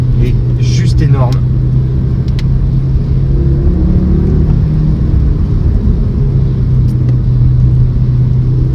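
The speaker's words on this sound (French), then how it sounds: "Ce 5 cylindres est juste énorme." An Audi five-cylinder engine in a small SUV (RS Q3) accelerates hard, a loud steady rumble and drone running throughout, heard from inside the car with a voice briefly talking over it near the start.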